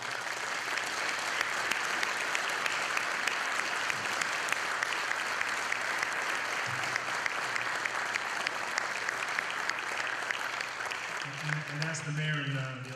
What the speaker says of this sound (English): I'd like everyone to give him a good round of applause